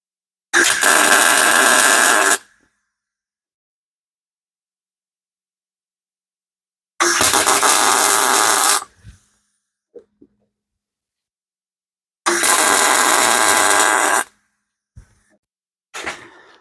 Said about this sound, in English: I'm going to weld it in 4 places all the way around and then burn it in.